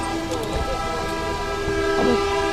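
A vehicle horn toots amid steady engine rumble and street noise in Pokhara, Nepal, with a prominent blast near the end.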